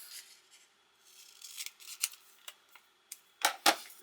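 Scissors snip through a piece of transfer tape during a Cricut Christmas craft, several crisp close cuts that grow louder and sharper toward the end, with no talking.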